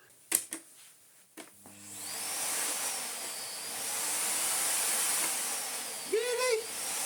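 Miele Clean Care S5281 2200W vacuum cleaner starts after a few clicks and handling knocks, then runs with a steady airy whoosh and whine; a voice speaks briefly near the end over the motor.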